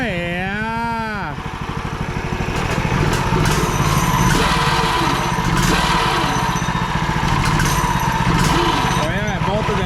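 Small gasoline engine sputtering with a rising and falling whine, then catching and running at a steady loud rattling idle, close by, with people talking over it.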